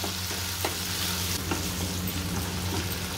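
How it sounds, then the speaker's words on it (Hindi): Chopped tomatoes and onions stirred and frying in a pan, a loud steady sizzle with occasional spatula scrapes and taps against the metal. "टमाटरों को भी मिक्स कर देंगे।"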